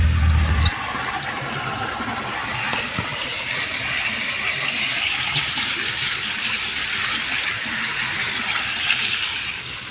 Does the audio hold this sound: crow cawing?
no